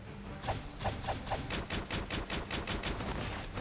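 A firing squad's rifle volley in the Octopath Traveler video game: a rapid, dense burst of repeated gunshots hammering on for several seconds, loud and close, with no talking over it.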